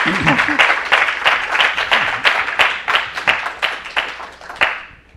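Small group clapping for a teacher at the end of a class, a dense patter of close hand claps holding steady for about five seconds before tailing off, with brief voice sounds near the start.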